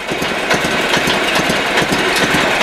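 A cold Sears Suburban SS16 snowblower engine running on both cylinders, a steady close chugging idle with a regular knocking pulse and vibration, loud with no voices.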